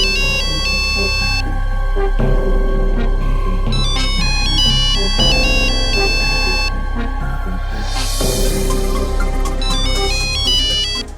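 A mobile phone ringtone plays loudly and continuously, a bright repeating electronic melody over a steady low hum.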